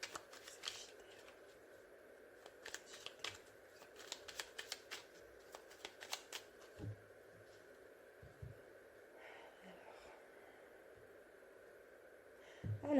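Tarot cards shuffled and cut by hand in a quiet room, a dense run of soft papery riffles and flicks through the first half, then scattered slaps and taps as the deck is split, with no talking.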